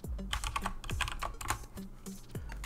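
A computer keyboard clatters with quick, uneven bursts of keystrokes close to the microphone, with short pauses between runs of typing.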